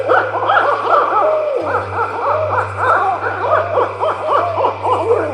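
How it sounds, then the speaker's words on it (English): Call of the extinct New Zealand laughing owl, a rapid series of loud, close, yelping hoots repeated in an eerie laughter-like pattern over a steady low hum. "It was the laughing owl, and the recording you just heard captures exactly what startled the early European settlers."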